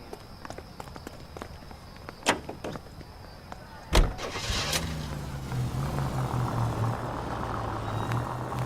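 A 1940s-style car in the video game L.A. Noire, with footsteps and a door thud followed by the engine starting and settling into a low, steady idle hum close by.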